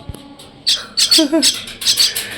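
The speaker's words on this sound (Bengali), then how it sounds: "ওই যে শালিক শালিক ওপরে" A myna bird gives several harsh, raspy squawks in quick bursts close by, with a few short gaps between calls and a brief chirp in the middle.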